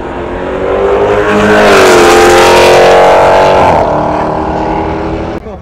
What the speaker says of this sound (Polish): A teraz jakiś Mustang się będzie ścigał